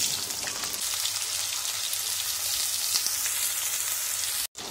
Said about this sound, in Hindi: अब हम इसी ऑयल में बैंगन को भी डीप फ्राई कर लेंगे।